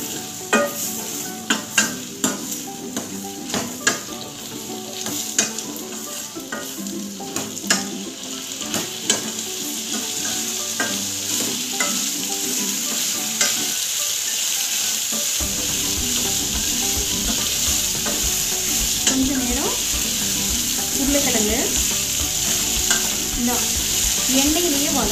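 Potato gravy base with turmeric sautéing in hot oil, a steady close sizzle that runs throughout, with frequent scraping and clinking stir strokes in the first half and a denser, fuller fry after the midpoint.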